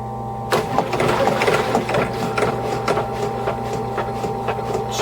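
A VacuFlush toilet generator's small diaphragm pump chatters and clicks rapidly over a steady motor hum, running continuously and close by.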